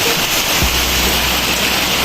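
Heavy typhoon rain from Typhoon Goring pours down on a flooded backyard beside a pigeon flyers loft, a dense, steady, loud hiss of water with no voices.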